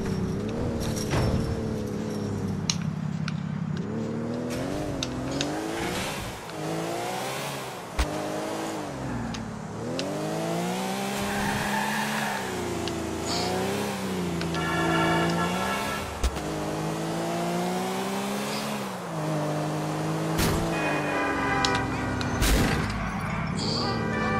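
In Grand Theft Auto IV on PS3, a car drives with a loud engine that repeatedly revs up and down through the gears. Sharp knocks and impacts are scattered through the run, heard close and continuous.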